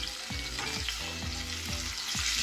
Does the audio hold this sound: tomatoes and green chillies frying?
yes